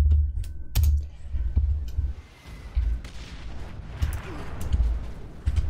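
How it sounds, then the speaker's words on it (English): Bolter battle rifle firing self-propelled explosive-tipped rounds in the Warhammer 40k Space Marine video game, a series of heavy booming shots and impacts at irregular intervals amid loud continuous battle noise. "A characteristic Space Marine battle rifle, firing self-propelled explosive-tipped rounds."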